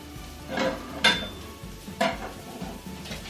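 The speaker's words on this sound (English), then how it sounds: "So you put the onions in, and they will start sizzling straight away, as you can hear." Onions sizzle in a hot frying pan over high heat with a steady hiss, broken by a few clattering stirs and scrapes of a utensil.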